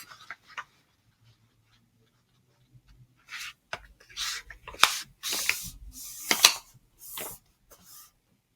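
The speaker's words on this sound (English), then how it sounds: "So start by folding your paper in half." A sheet of paper is folded in half for a drawing project, with soft crinkling and sharp creasing swipes that come in a burst of close, crisp rustles after a quiet start.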